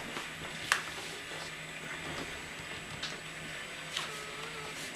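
A Dell Optiplex 745 desktop computer powers up with a steady whirring fan drone and faint electronic whine, punctuated by a few soft clicks, close and continuous.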